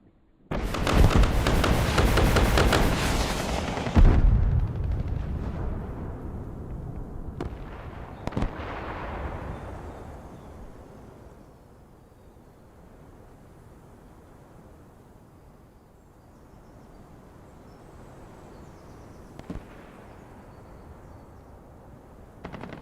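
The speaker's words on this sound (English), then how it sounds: "There's the rockets" Rocket salvo fired in the War Thunder combat game: a loud, dense crackling roar for about four seconds, then fading into a low rumbling background with a few sharp isolated cracks.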